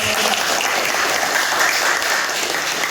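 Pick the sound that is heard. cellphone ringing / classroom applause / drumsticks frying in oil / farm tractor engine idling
classroom applause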